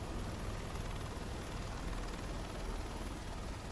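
Helicopter landing, its steady rotor and engine roar filling the clip as a continuous, loud, broadband drone with no talk over it.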